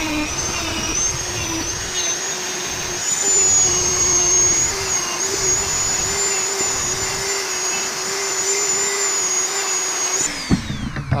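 A Dremel rotary tool polishes a 3D-printed Charlie Kirk memorial statue, giving off a steady, close, high-pitched whine with a broad grinding hiss that holds for about ten seconds and then cuts off.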